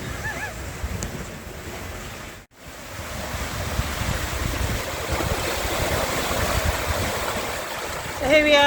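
Open-ocean waves and wind rush steadily around a sailing boat on a Pacific passage from Mexico to the Marquesas, a dense, unbroken wash with a brief dropout early on.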